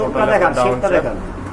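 Giribaz pigeons from Rajshahi cooing close by, mixed with a voice talking over them.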